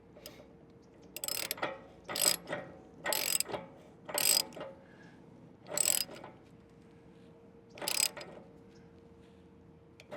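Ratchet wrench snugging down a fitting on an RV water heater, six separate short bursts of rapid clicking with pauses between them, close and fairly quiet, no talking.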